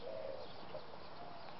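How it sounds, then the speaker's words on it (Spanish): Faint, distant bird calls, soft cooing notes over a hissy outdoor background, a couple of brief phrases within a short stretch. "Se oye los pájaros cantando"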